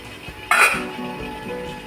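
A single sharp metallic clink as the lid is lifted off an idli steamer pot holding fasting (farali) idli plates on a gas stove, followed by a quiet hiss of escaping steam.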